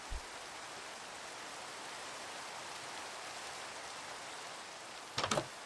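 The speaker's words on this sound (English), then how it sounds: "Alright, still raining." Steady rain pours in a video game, a constant broadband hiss with no let-up, and a couple of brief thumps near the end.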